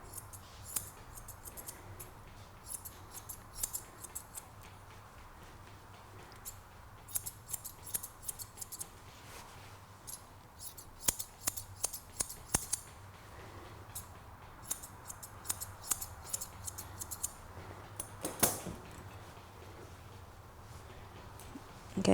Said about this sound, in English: and this would be my scissors.